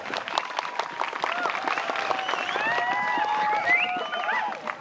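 Audience applause during a poetry reading at a Nahdlatul Ulama centenary event, steady broadband clapping from a crowd with some cheering voices mixed in throughout.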